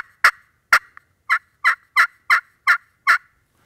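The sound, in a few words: turkey call clucking and cutting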